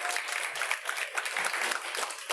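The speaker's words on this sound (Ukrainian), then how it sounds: "Оплески Євгенію брату!" Audience applause at a live improv comedy show, a dense steady wash of clapping from a crowd that holds evenly for a couple of seconds without any voices.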